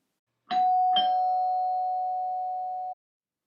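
A doorbell rings with two quick strikes, then one clear tone holds for about two seconds before it cuts off, loud and alone in silence.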